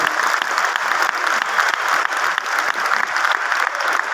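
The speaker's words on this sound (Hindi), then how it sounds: "उनके लिए तालियां बजा दीजिए" A seminar audience in a hall claps continuously, dense and even applause from many people filling the room, loud and unbroken.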